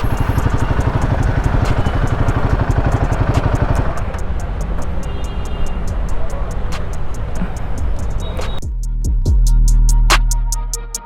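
Motorcycle engines idling at a service centre, where a Royal Enfield Himalayan 450 is in for its first service; a steady low rumble with ticking, then a quieter, thinner engine note near the end.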